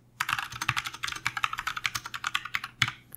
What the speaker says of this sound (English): These switches feature a tactile press, and they describe it on the Launch keyboard's homepage as a muted clack.